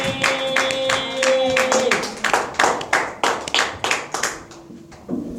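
A congregation at a French-language church service claps in a steady rhythmic run of about a dozen sharp claps, fairly close, with a sustained tone fading early and a short voice at the end.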